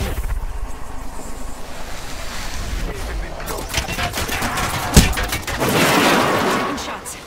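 Gunfire in an Apex Legends match crackles under a dense, rushing wash of game noise, with one sharp, louder shot standing out near the end.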